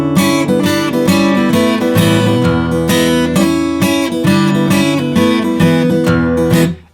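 Hill country blues guitar, played as continuous ringing chords and bass notes without muted percussive strokes, loud and close, sustained throughout and fading at the very end, no voices.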